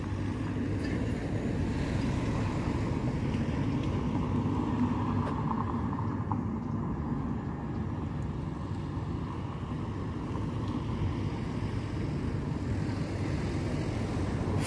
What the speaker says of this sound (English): Now arriving is a terminating Stagecoach Super Tram train service from Cathedral.